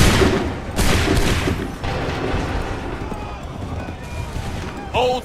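A musket volley in a colonial-era battle, with a loud crackling burst of many shots at the start and another around one second, then rumbling echoes and scattered fire, ending with a brief shouted voice.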